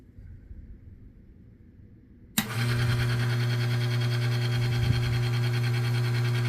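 A lubricity test machine starts abruptly and runs steadily with oil and no weight added, a loud constant motor hum with strong steady tones after a quieter lead-in.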